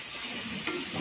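Ginataang langka is stirred in a pan, a faint, steady sizzle with a light scrape midway, short and close.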